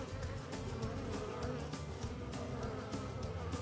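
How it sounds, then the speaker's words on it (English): A honeybee swarm buzzes densely and steadily throughout, a close, continuous hum of many bees with no talk over it. "There's so many bees in there right now."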